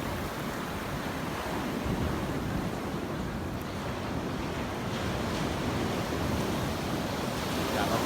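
Sea waves breaking and washing ashore at Hat Chao Samran beach in Thailand, a steady broad roar of surf with wind buffeting the microphone, continuous and fairly loud with no talk.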